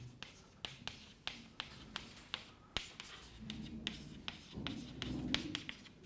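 Chalk or marker strokes on a lecture board during a general relativity class, a series of sharp taps and short scratchy strokes at irregular intervals, fairly faint and close, with no speech over them.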